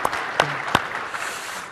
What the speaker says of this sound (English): Round of applause for Mr.